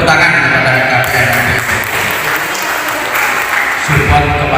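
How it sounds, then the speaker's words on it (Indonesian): Applause from attendees at a training session for village heads in Kepung district, loud and continuous, with a voice speaking over the clapping. "Tepuk tangan kepada KPM."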